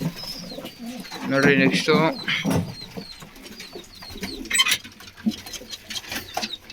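Caged pigeons coo and rustle close by, with soft cooing and fluttering under someone speaking Kannada.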